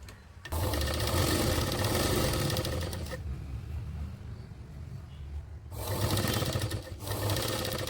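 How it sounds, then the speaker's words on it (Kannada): A sewing machine stitching saree fabric, running in long continuous whirring bursts with a steady mechanical rattle, close and loud, then stopping briefly before starting again. "ಈಗ ಇದು ಒಳಗೆ ಸ್ಟಿಚ್ ಮಾಡಿ ತೋರಿಸ್ತೀನಿ"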